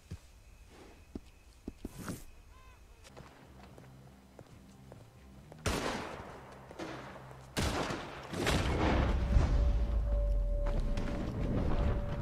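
Gunshots in Red Dead Redemption 2 shoot a hat off, with sharp cracks and a couple of loud blasts standing out against quiet footsteps and rustling, followed by a louder rumbling stretch.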